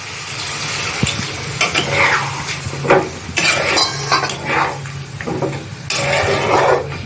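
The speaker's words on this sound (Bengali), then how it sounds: "এখন আমি পরিমাণ মতো জল দিয়ে দেবো" Water added to a hot pan of fried drumsticks, potato and poppy seed paste: loud, close sizzling and bubbling, with stirring, scraping and the clink of a utensil against the pan in uneven bursts.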